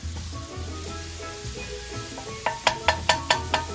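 Ginger sizzles and crackles in hot oil as it is stirred around a pan for Trinidad pepper shrimp, a steady close fry broken near the end by a quick run of sharp spoon scrapes and taps.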